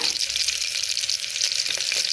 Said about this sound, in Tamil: கருவேப்பிலை பொரிஞ்சதுக்கப்புறம் 2 பச்சை மிளகாவை கீறி போட்டுருக்கேன்